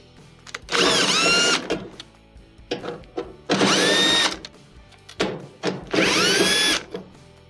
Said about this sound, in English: we're going to take 3 screws out of the back panel